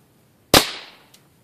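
A single low-powered .22 rifle shot striking homemade tin can and junk mail armor, heard as one sharp crack with a short decaying tail and a faint tick just after, close and otherwise quiet.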